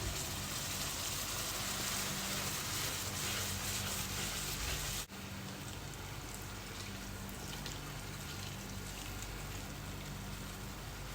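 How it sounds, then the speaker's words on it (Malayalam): Second coconut milk pours in a steady splashing stream into simmering lentil and jaggery payasam, a close, continuous liquid rush that breaks off abruptly midway and carries on slightly softer. "ഇനി നമുക്ക് രണ്ടാം പാല് ഒഴിച്ചു കൊടുക്കാം."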